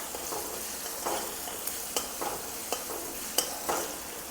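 Onions frying in a pan until reddish for Maharashtrian roasted-eggplant bharit, a steady close sizzle broken by occasional scraping stirs and clinks of a spoon, with no voices.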